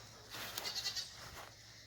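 A goat on a goat farm lets out a single faint, brief bleat against a quiet background.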